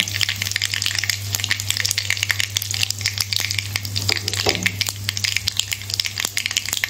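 Ground spice masala hitting hot oil for Kashmiri dum aloo, a loud, steady close sizzle with crackling spatter and a few stirring scrapes, no talk.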